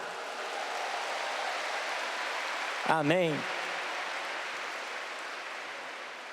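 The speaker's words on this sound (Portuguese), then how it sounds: "Eu quero que você dê um aplauso para o seu trabalho" Church congregation applauding, a continuous dense patter of clapping hands from a crowd, with a brief spoken word from one voice in the middle.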